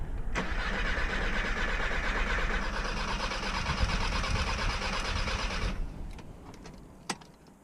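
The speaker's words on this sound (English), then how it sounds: "just crank the engine around with some oil just so the turbo isn't" A VW Golf Mk5 GTI turbo engine cranks over steadily for several seconds with a rapid, rhythmic whirring, ignition coils disconnected, then stops, followed by a couple of faint clicks.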